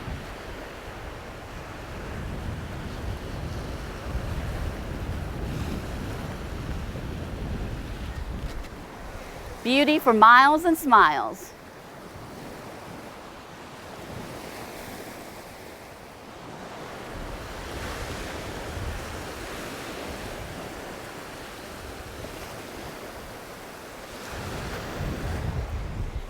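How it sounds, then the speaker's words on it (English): Choppy Gulf of Mexico waves wash ashore in a continuous low surf roar with wind buffeting the microphone, while a voice speaks briefly midway. "The normally tranquil waters of the Gulf of Mexico are a little choppy today. Yes, this is what we call waves around here."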